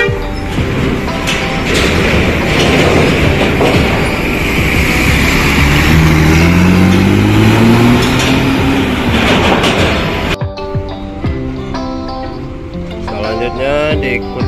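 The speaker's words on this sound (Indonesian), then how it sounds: "unit bus Rosalia Indah Executive Class tujuan Blitar keberangkatan dari Lampung" An executive-class Rosalia Indah bus drives past at the roadside, with a loud, close rumble and a rising engine drone as it passes, followed by a brief quieter stretch.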